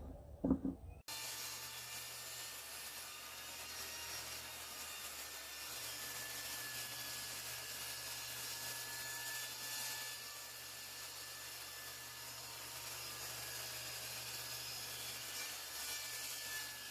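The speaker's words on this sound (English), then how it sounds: "I have to take it to the table saw so that I could rip it down to clean up these edges" A table saw rips down old reclaimed wood, starting abruptly after a brief quiet knock and holding a steady, close, high-pitched cutting whine with a low motor hum underneath for the full length, with no talk.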